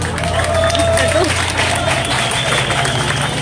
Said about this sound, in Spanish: regalémosle un fuerte aplauso al organizador de este evento